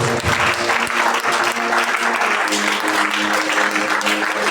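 A church congregation claps loudly and continuously in praise during a worship service, a dense sustained applause with some voices and music audible underneath.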